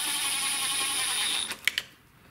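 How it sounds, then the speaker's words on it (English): Cordless impact driver run briefly at a low setting to start the valve cover bolts on a Kohler single-cylinder OHV lawn tractor engine: a steady close whir for about a second and a half, then a few short bursts and clicks before it stops. "Now I'm using the impact to start them back in, but at the low setting."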